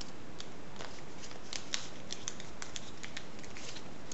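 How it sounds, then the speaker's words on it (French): Paper being folded and creased by hand for an origami star, giving soft crinkling rustles and a few sharper creasing snaps close by, with no talking. "Ensuite, on va venir le plier comme ceci."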